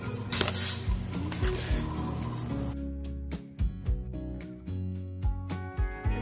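A spoon scrapes and clinks against a pot while crockpot mac and cheese is stirred, giving uneven scraping strokes followed by sharper metallic taps and knocks at close range.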